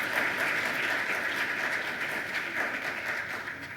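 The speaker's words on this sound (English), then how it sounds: "deserving of the applause" An audience applauds a staff member at a staff recognition event, steady dense clapping from a room full of people that fades slightly toward the end.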